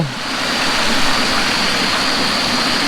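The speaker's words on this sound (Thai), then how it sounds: "ก็เราเพิ่งมาถึงน้ำตกนะฮะ" A steady, loud broadband rush of water at a forest waterfall campsite after dark, continuous and unchanging with no voices over it.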